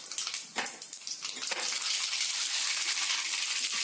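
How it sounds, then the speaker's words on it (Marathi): Half a spoon of mustard seeds dropping into a hot pan for a Marathi dry dish of sour chuka greens, dill and toor dal, giving a close, dense crackling sizzle that thickens into a steady hiss with no talk. "आता आपला अर्धा चम्मच आपल्याला मोहरी टाकायची आहे"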